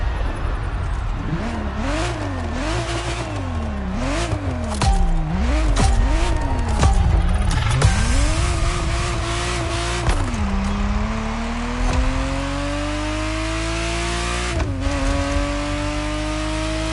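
A Ferrari Testarossa in The Crew Motorfest, engine revving up and down through repeated gear changes, then a long steady climbing pull, loud and close with faint tire noise.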